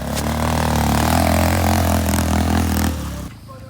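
An ATV engine runs steadily and loud up close on a nature ride, holding a strong low hum that drops off sharply near the end, with no talk over it.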